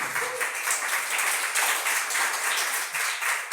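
A church congregation applauds during a Spanish-language sermon, a steady wash of many hands clapping that carries evenly for several seconds at moderate loudness, with no talk over it.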